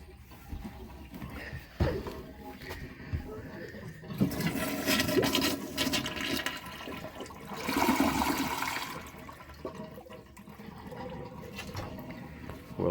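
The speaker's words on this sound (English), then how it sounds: "now the tricky one is draining the water heater" Steady rushing and gurgling of water draining from a cottage water heater through a valve, swelling louder in bursts, with faint talk in the background.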